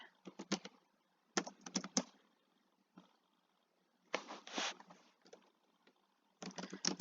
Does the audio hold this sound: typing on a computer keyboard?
yes